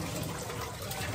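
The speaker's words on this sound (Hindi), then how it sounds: "हम 1 मिनट में बर्तन धो देंगे।" Tap water running in a continuous splashing stream while dishes are washed at home, loud and close for the whole brief moment with no talking.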